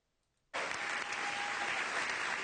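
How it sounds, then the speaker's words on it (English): Audience clapping bursts in abruptly after a brief quiet moment, then continues as dense, steady applause filling the rest of the stretch, loud and close with no voices over it. "these people are clapping and laughing"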